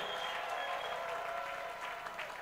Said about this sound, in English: give the Lord a clap offering and a shout of praise here